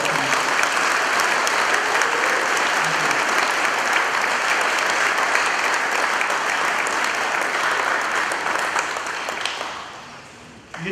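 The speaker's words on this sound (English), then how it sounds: "May I ask that we give them a big round of applause." Crowd applause at an Independence Day ceremony of the Federated States of Micronesia rings out steady and dense for about ten seconds, then fades away near the end.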